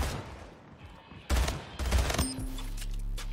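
Video-game gunfire, a loud sudden burst of shots followed by a second volley, set against quieter background game sound.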